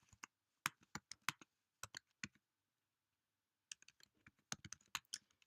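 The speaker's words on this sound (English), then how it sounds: "So if you just type in some instructions." Fingers type on a computer keyboard in short bursts of crisp, close clicking keystrokes, pausing for about a second in the middle before a second flurry of taps.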